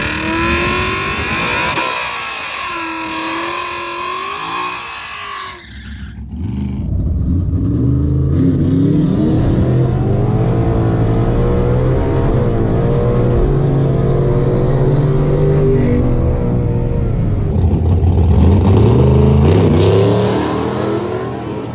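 A 2015-or-newer Ford Mustang GT makes a drag strip pass, its engine roaring loudly as it accelerates hard. The revs climb and drop through several gear changes.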